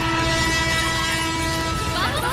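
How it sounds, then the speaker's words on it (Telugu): A train draws near with a loud, sustained horn blast over rumbling wheels on track, filling the short stretch at close range. "ట్రైన్ వస్తుంది."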